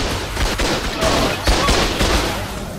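Rapid bursts of automatic turret fire from the ARK: Survival video game during an official PvP base defense, loud and continuous crackling volleys with sharper shots punching through around the middle.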